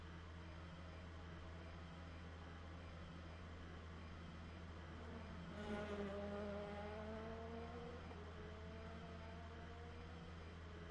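LMP2 prototype race car in Le Mans Ultimate at Bahrain, a faint steady engine drone with rising gear-change harmonics midway as revs climb, distant under a low constant hum.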